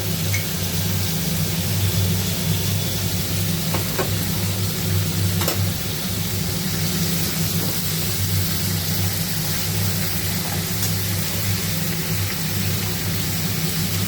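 Ground garlic frying in a pan gives a dense, steady sizzle with a low hum underneath and a few faint clicks.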